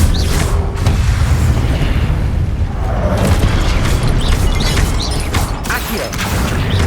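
A Confringo blasting spell explodes in Hogwarts Legacy, with a loud, dense booming burst and mechanical creaks and rattles continuing around it for several seconds.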